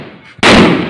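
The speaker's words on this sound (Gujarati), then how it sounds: "હાલો મિત્રો, ફટાકડા ફોડવા" A Diwali firecracker bursting with a single sharp, loud bang close by, following a brief hissing fuse.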